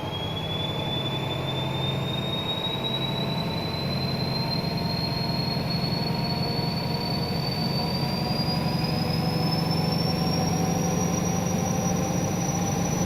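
A Valenta-engined HST in the game Train Simulator Classic gives a sustained, loud engine drone. A high whine climbs slowly in pitch as the train accelerates, steady throughout with no talk.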